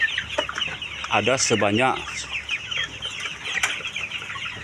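Chickens cluck in a poultry farm colony of native and KUB breeds, a dense chorus of clucks and calls with one louder nearby cluck sequence, while someone speaks briefly over them.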